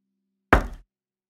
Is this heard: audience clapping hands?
no